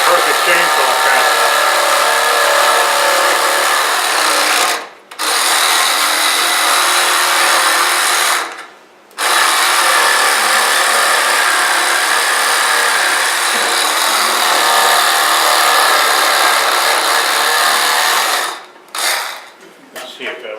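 A chainsaw cuts into a wood stump, running loud and steady at full throttle with two brief pauses before it winds down near the end.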